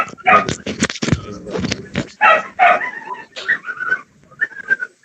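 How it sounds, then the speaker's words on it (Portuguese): A small dog barks in short yips and bursts mixed with voices, fairly close and loud, irregular over several seconds. "eu ouvi um cachorrinho latindo"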